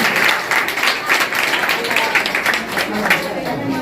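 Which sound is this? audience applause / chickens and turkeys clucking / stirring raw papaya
audience applause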